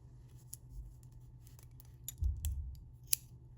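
Scissors snipping crochet yarn after a slip stitch: a few sharp, close metallic clicks and snips spaced over a few seconds against a quiet background.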